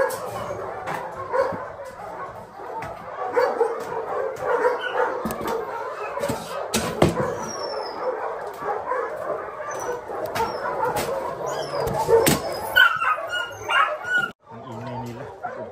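Nursing puppies yip, whimper and bark steadily in a noisy, overlapping chorus, with occasional sharper yelps breaking through.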